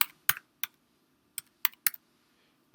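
A handful of crisp computer keyboard keystrokes in an irregular typing rhythm, close and fairly quiet, with short pauses between clusters of presses.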